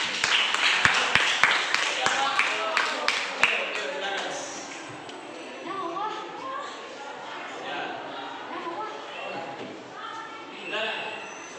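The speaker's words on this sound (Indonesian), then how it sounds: "Tepuk tangan untuk kelompok 3." A classroom group claps in a short burst of sharp, evenly spaced claps for group 3's presentation, fading quickly into voices talking.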